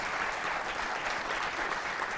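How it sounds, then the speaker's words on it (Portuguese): An audience claps continuously in a dense, even burst of applause that lasts the whole short stretch. "Podem bater palmas."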